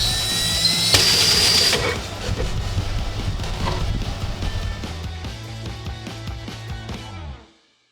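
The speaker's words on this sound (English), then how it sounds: "attach the assembled AHC-10 to your drill" A power drill turns a Jonard AHC-10 adjustable round hole cutter, starting with a sharp high whine, then grinding steadily through the material for several seconds before spinning down.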